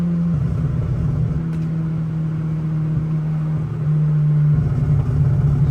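A Nissan GT-R engine holds a steady, loud idle-like drone close by, its pitch stepping up slightly as the revs are raised, with no talking over it.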